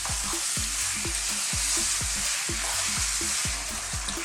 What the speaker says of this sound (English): So a high heat, and keep stirring now. We're going to just really fry this off.